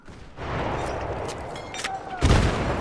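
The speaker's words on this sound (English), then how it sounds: "Grenade out!" Battlefield 3 combat with a grenade and gunfire, a dense loud burst of shots and explosions running throughout, with a heavy blast near the end.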